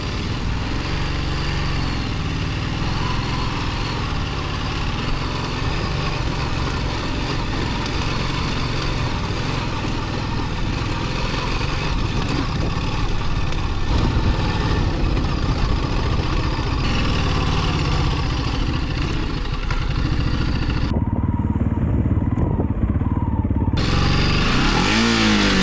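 Heavy Ducati Desert X adventure motorcycle engine labouring up a steep, slippery, muddy and root-covered climb on a Bosnian trail, a steady loud rumble with throttle surges, briefly muffled near the end.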